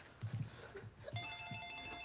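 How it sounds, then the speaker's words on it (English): A telephone rings in a scene from the Korean film Parasite: soft, low thumps and movement come first, then a faint, steady electronic ring begins partway through and continues to the end. "they hear a phone call from Yeon-gyo"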